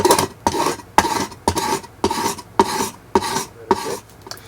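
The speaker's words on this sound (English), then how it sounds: "nice thing about draw knives and axes, I can scrape that smooth" A draw knife scrapes along a wooden axe haft to smooth it, giving eight evenly spaced, rasping strokes about half a second apart, each a close, bright scrape with short gaps between.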